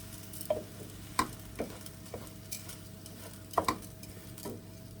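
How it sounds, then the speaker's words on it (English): Onions, garlic and chorizo cook gently in a pan for paella while a utensil stirs them, a soft background sizzle broken by a handful of distinct scraping clacks spaced irregularly. "the onions, the garlic and the chorizo, and you just cook it for a minute or so."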